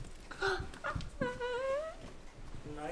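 A puppy whimpers in a few high, wavering cries, one long drawn-out whine in the middle, close to the listener with people talking softly nearby.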